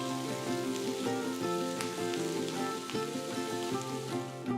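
Curry leaves, with chopped ginger and green chili, sizzle in hot oil for tempering, giving a continuous crackling fry under a steady tonal background hum.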